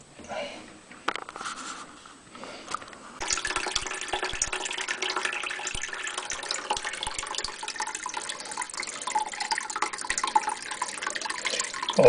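Water drains from a leaking water heater's drain valve into a bucket, a continuous splashing hiss that starts after a few seconds and holds steady, close and fairly loud, with someone talking over it.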